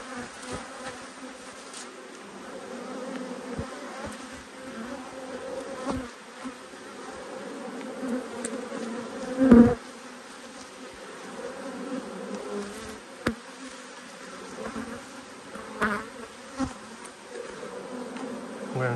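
Honey bees buzzing around an open hive during an inspection in the middle of a strong nectar flow, a steady, moderately quiet drone with occasional louder individual bees passing close by, no talking.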